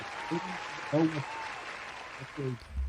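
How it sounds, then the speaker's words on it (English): Canned applause effect dropped into a podcast conversation, a brief burst of clapping with voices mixed in that lasts a few seconds. "I had to throw the applause in there for you, man."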